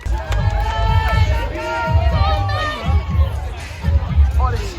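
Spectators line the TCS London Marathon route near Bermondsey, shouting and cheering in a busy roar of overlapping voices, with a runner's footsteps and breath close by.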